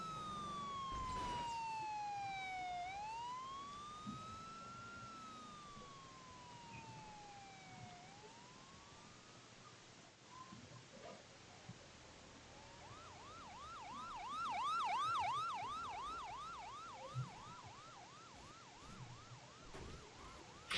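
A police car siren wails nearby, first in long rising and falling sweeps, then switching to a fast repeating yelp, with faint traffic noise beneath.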